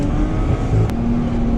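A 150 bhp Lexus engine held high in the revs at a drift circuit before the clutch is popped, a loud steady close drone with a faint rising tone and no talk.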